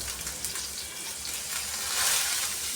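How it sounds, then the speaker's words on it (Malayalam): Roasted gram frying in a pan, a soft continuous sizzle and hiss that swells slightly toward the end, fairly faint, no voices. "നല്ലോണം വറുത്ത് വരുന്ന പൊട്ടുകടല ആഡ് ചെയ്യുക."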